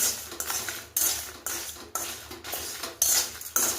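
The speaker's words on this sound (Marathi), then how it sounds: "तर हे परतून घ्यायचं एकदम बारीक गॅसवर" Red chillies with moong and urad dal being roasted and stirred in a pan over very low heat, a spoon scraping and clinking against the metal in repeated sharp strokes about every half second, close and alone.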